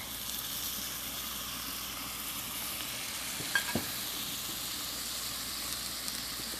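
Spinach sizzling in a hot frying pan, a steady soft hiss and crackle with a brief stirring clatter midway, fairly quiet and close.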